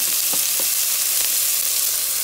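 Small, finely chopped onion sizzling steadily in a hot pan, a loud continuous hiss with a few faint stirring clicks.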